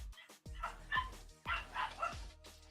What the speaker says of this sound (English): I hear a puppy.